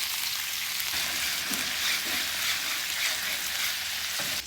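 Meatballs sizzle on a hot flat-top griddle and get flipped and shuffled around, a steady, loud, hissing fry with faint scraping from close by, no talk.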